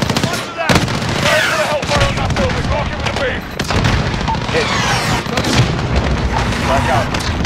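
Airstrike explosions and heavy gunfire hit a building in Call of Duty: Modern Warfare, with loud repeated booms and bursts over several seconds, under shouted military radio chatter.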